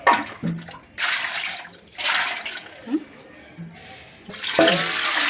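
Water rinses out a kitchen vessel being washed clean after cooking, coming in several splashing, pouring bursts separated by short quieter pauses, close and moderately loud.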